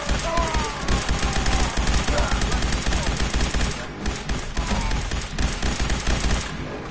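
Sustained loud gunfire in the video game Fallout 4, rapid automatic bursts with a brief lull partway through, with a voice faintly beneath the shooting.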